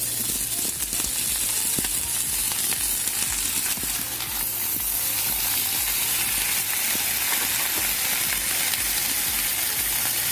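Gourd leaves frying in a pan over browned onions give a steady, dense sizzle with faint stirring scrapes, close and continuous, no voices.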